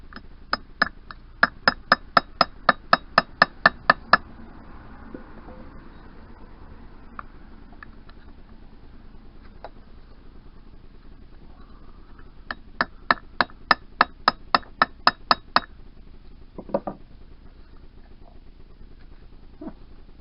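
Two bursts of rapid metallic hammer strikes, about a dozen blows each, ring out over a quiet background, followed by a few scattered knocks, as a clutch centre nut is hammered loose on a 1988 Yamaha DT125R engine.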